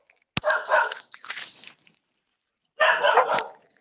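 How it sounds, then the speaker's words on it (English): A dog barks at a delivery driver, heard as two loud bursts of rough barking close by, separated by a short silence. "barking at the UPS guy."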